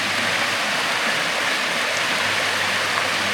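Rushing water from a waterfall on a river in Hillsborough River State Park, reshaped by a recent storm, fills the scene with a steady, dense roar that stays close and even throughout.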